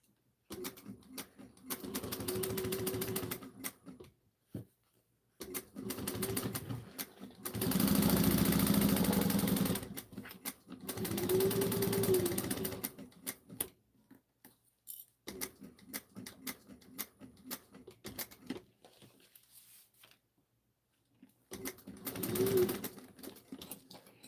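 A sewing machine stitches a tote seam about an eighth of an inch in, running in loud close bursts of rapid mechanical whirring with brief pauses and short backstitch runs at the start and end, plus faint handling clicks between.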